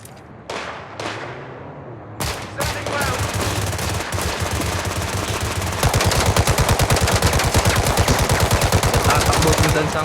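Gunfire in the Gangstar Mirage City video game: a few separate loud shots, then sustained rapid automatic fire that grows even denser and louder for the last several seconds, with no talk over it.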